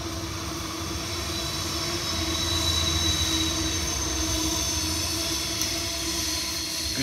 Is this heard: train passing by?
yes